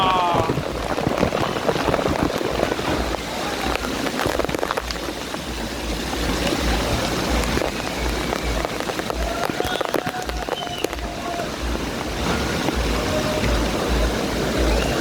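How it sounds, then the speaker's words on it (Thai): Steady rain falls across an outdoor water park, a dense even hiss of drops on water and hard surfaces lasting throughout, fairly loud and close. "ฝนตก"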